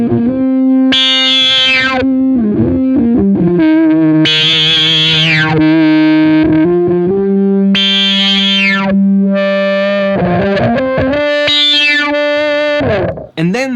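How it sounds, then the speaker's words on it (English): Electric guitar played through a Beetronics Zzombee Filtremulator pedal with the filter ramp up set to instantaneous. Loud distorted notes and chords snap open into bright filtered bursts, held tones sweeping and wobbling across a continuous passage. "So we heard the instantaneous ramp up of the filter."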